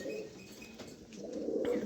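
A pair of pigeons, a female and a ringed club male, coo in soft low rolling phrases at close range, steady and unhurried with no speech over them.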